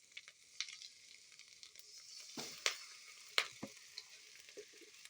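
Sauce hits a hot pan of noodles being cooked at home, giving a soft sizzle broken by sharp crackles and stirring clatters, quiet and close with no voices.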